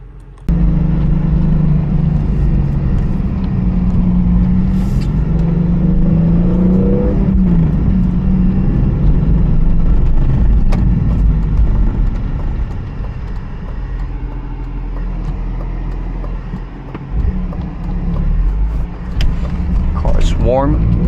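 A BMW E46 M3 wagon engine running while driving, steady cabin drone with a brief rise in revs, heard under someone talking for most of the stretch.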